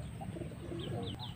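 Pigeons cooing, a few soft low coos close by with faint chirps mixed in, brief and quiet.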